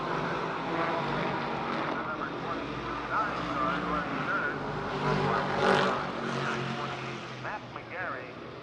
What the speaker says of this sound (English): You can hear the roar, the big block